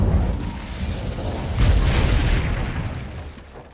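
An Incendio fire spell bursts in Hogwarts Legacy, a broad rushing whoosh swelling to a loud peak midway through and then fading away with no talk over it.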